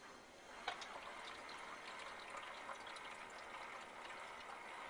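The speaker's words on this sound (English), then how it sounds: "you can hear the pump pumping the water up." Pump inside an Emerson portable ice maker pushing water up into the reservoir, a faint, steady watery hum and trickle that runs evenly throughout with no talking.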